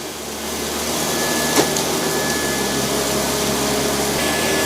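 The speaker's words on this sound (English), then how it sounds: "you can hear it ramping up the suction whenever it can sense more dirt on the carpet" Dyson 360 Vis Nav robot vacuum with a full-size brush roller running on carpet, giving a loud, steady, close-up whir of suction motor and brush with a brief knock partway through.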